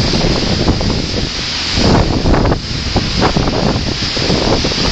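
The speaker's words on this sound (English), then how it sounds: "the wind is so strong it's pulling the banner over" Strong wind gusts roar across an outdoor spot beside a highway, a loud continuous rush with buffeting against the microphone that swells and eases throughout, no voices.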